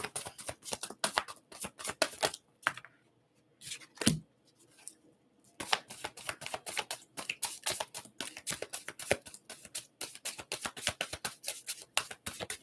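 Tarot cards shuffled by hand in a dense run of quick, crisp riffling and flicking clicks, close and loud, with a brief pause and a single soft thump midway before the rapid shuffling resumes.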